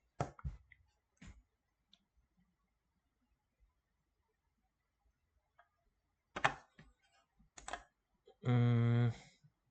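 A few isolated computer keyboard key presses, faint and sparse clicks spread through quiet, ending with a brief louder buzzing tone.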